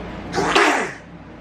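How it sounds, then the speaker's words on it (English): A single forceful sneeze, close and loud, building briefly then bursting and fading within about a second, with no speech over it. "What kind of sneeze was that?"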